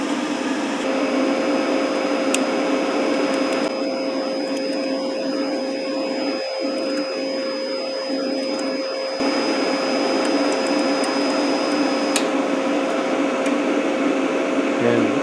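A YesWelder Mig-205DS-B aluminum MIG welder runs its wire-feed motor, turning the wire spool with a steady, continuous whirring hum and a faint high whine, close by and unbroken.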